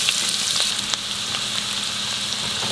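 Onion sizzles steadily in olive oil in a frying pan, a close, continuous crackling hiss with faint stirring throughout.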